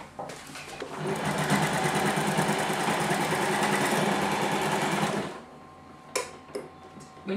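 A sewing machine runs in one continuous fast stitching burst for about five seconds while sewing a jacket shoulder, close and steady, then stops and a few light handling clicks follow.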